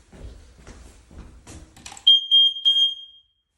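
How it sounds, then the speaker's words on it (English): A ceiling smoke alarm in a building is tested: after a stretch of quiet talking, it lets out a few loud, shrill beeps and then a sustained high-pitched tone. "Just going to test these smoke alarms."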